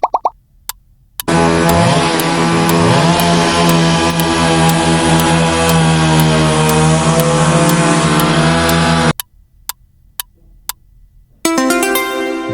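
A chainsaw runs loudly and steadily for about eight seconds, its engine pitch wavering early on, set between short silent gaps in a sound-guessing game.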